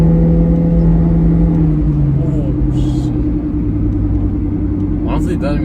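A hybrid car pulling away, its engine giving a steady low exhaust rumble with a slight rise in revs, loud and close throughout.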